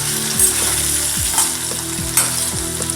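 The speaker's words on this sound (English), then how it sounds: "Just stir it a bit." Tomato pieces sizzle and fry in a pan as they are stirred, with steady crackling and a few scraping strokes, close and moderately loud and with no voice.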